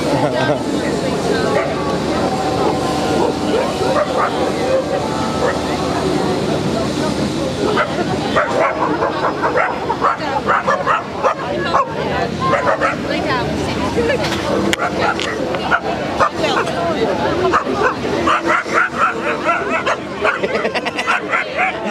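A dog barks and yips repeatedly at a crowded outdoor gathering at Parliament Square in Wales, the barks mixed in with constant crowd noise and people talking.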